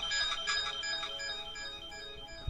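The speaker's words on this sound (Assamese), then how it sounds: "অহ, দত্ত ছাৰৰ ফোন যে।" A mobile phone ringtone plays as a bright, tuneful electronic melody with steady pulsing notes, indoors at moderate level, with no talking over it.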